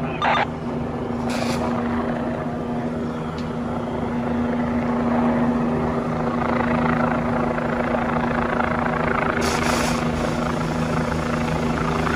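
A helicopter hovers overhead at a fifth-alarm fire in New York, its steady rotor drone and engine hum continuous and close, with occasional brief bursts of noise.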